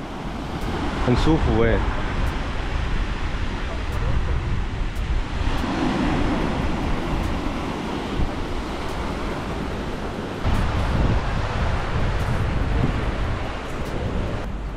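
Ocean waves wash against the rocky shore at Keelung, a steady roaring surge mixed with gusting wind on the microphone, while a person speaks briefly over it.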